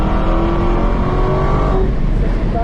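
A supercar accelerates hard on a race track, its engine roaring loud and close with rising tones and a sustained rumble, while someone talks over it.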